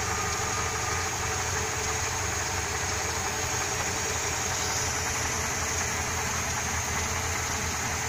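A car engine idling while a Holley carburetor is adjusted, likely a Dodge Shadow, Spirit or Dakota setup: a steady, loud, even mechanical drone with a constant hum, close up and without talk.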